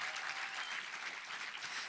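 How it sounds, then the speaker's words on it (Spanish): Congregation applauding during a church sermon, a sustained wash of many hands clapping together, heard somewhat distant and steady throughout. "Eso merece un aplauso más grande al Señor."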